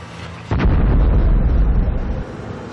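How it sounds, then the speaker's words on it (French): A loud blast detonation in a tanzanite mine in Tanzania: a sudden heavy boom with a sustained rumbling roar that rolls on for about two seconds before easing, with no talk over it. "Plusieurs détonations scandent la journée"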